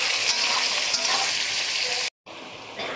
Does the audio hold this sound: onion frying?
yes